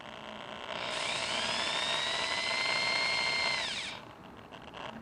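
A portable electric drill whines at a steady high pitch, its bit mounted off-centre in the chuck and wobbling, running for about three seconds before spinning down, loud and close over a quiet room.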